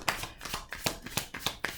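Tarot cards shuffled by hand in a steady run of soft, crisp riffling slaps, close and fairly quiet, with no voice over them.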